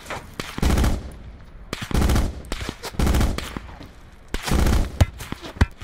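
Bursts of automatic gunfire from a weapon in the battle-royale game Call of Duty Blackout, four sustained loud volleys separated by short pauses, with scattered single shots between them.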